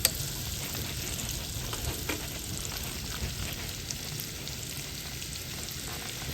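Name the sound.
gnocchi cooking with Italian sausage in a pan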